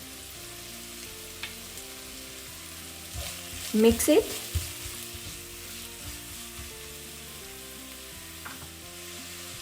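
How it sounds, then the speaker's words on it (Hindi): Chopped vegetables sizzle and fry in a pan for soupy noodles, with a short burst of stirring and scraping near the middle and a quiet sizzle underneath, plus a brief spoken remark. "सब्जी को हम 1 से 2 मिनट ही पकाएंगे।"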